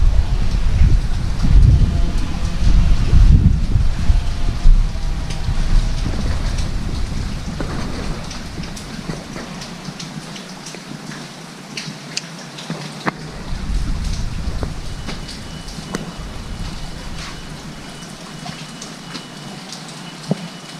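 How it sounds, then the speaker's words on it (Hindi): Heavy monsoon rain pours down in Kinnaur, Himachal Pradesh, a dense, steady roar that is loudest and deepest early on, then eases slightly while continuing unbroken, with no voices. "बारिश भी काफ़ी हो रही है"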